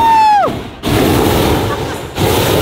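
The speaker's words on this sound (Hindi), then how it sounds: "तो गाइस यार ये है इसके बर्नर्स। देखो सर, एक बार चलाना इसको" The burner of a large hot air balloon, India's biggest, roars in a loud, steady blast that cuts out briefly and then resumes. It comes after a short falling whistle at the start.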